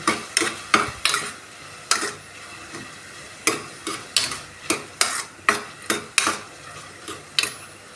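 Ginger garlic paste being sautéed in a pan for a gravy, a spoon striking and scraping the pan in steady repeated knocks, about two per second, close and clear with a faint sizzle underneath and no speech.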